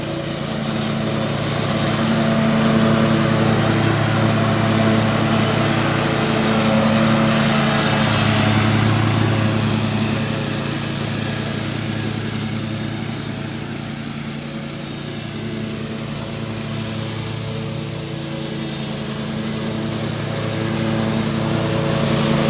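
Toro Time Cutter zero-turn riding mower, a commercial-use machine first bought in 2013, with its engine running steadily and close, a loud continuous hum with strong low tones that dips slightly midway and then rises again, no talking.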